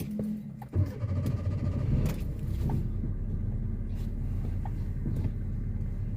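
A manual car idles with a low steady engine rumble and then pulls away in first gear, with a few mechanical clunks and a rise in engine noise inside the cabin.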